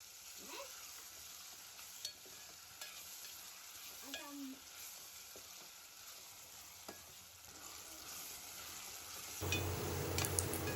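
Onion and finely chopped tomato softening in a pan, a faint, low sizzle with scattered small clinks and stirring scrapes, rising slightly louder near the end.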